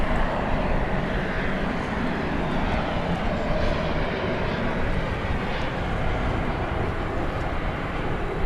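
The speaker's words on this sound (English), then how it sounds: "That Frontier aircraft, Flight 1406, Airbus A321 arriving from Ontario, California" A Frontier Airbus A321 comes in to land at DFW Airport at night, its engines a broad, steady roar that holds loud and constant throughout with no talking.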